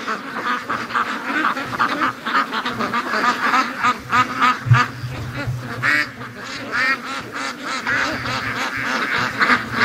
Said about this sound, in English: Come on, ducks.